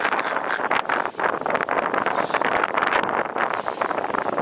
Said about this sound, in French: Oh là, il y a vraiment trop de vent